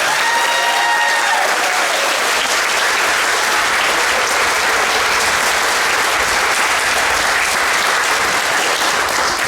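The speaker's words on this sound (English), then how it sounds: "How about a round of applause for all of our students?" Sustained, loud applause from a school audience at a 2021 moving-up ceremony for students, a thick continuous roar of many hands clapping throughout.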